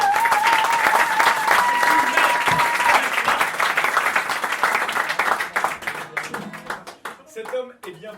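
An audience breaks into loud, steady applause for a performer at a tribute concert, with a sung note heard at first and the clapping thinning out toward the end.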